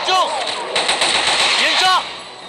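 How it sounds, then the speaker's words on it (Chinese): T91 rifle fire in a video game comes in rapid automatic bursts, loud and close, with short pauses between volleys and faint electronic game voices and tones around them. "射击，继续射击。"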